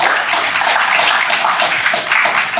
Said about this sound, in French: Je voudrais bien que vous les reconnaissiez avec un banc d'applaudissements.